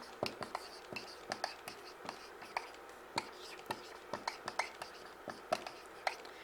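Handwriting on paper, close and quiet, with a run of short scratchy pen strokes in an uneven rhythm, some taps sharper than others, while a person speaks softly nearby.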